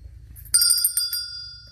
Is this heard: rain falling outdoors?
no